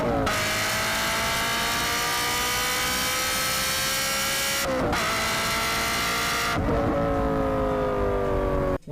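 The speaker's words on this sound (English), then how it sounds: "if you want to enhance the exhaust note of the car" A Ferrari 355 with an exhaust system screams at high revs, a loud continuous wail with rising pitch that breaks at gear changes before climbing again, close and dominant.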